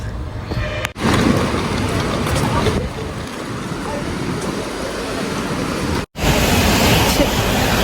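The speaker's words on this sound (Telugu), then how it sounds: "ఫుల్గా వర్షం పడుతుంది ఈరోజు" Heavy rain falls on a busy London street at rush hour: a dense, constant roar of rain and traffic with crowd babble and voices mixed in, broken by two brief cuts.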